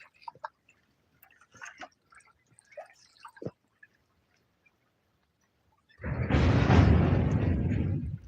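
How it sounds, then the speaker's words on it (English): Train rumbling across a bridge overhead by a fishing spot, a loud broadband roar arriving abruptly after several seconds of near-silence with scattered small clicks and taps, then holding steady to the end. "that's the train just above me"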